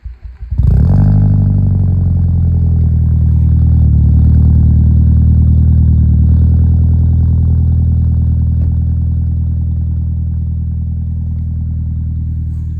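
A Seat Leon car engine, its exhaust buried in snow, cranks and catches, then settles into a loud, deep, steady idle rumble that continues for several seconds, close by and alone.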